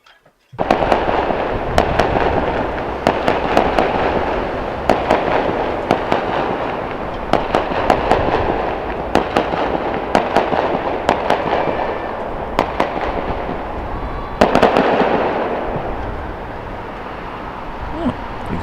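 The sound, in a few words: fireworks at cruise ship departure, Port of Southampton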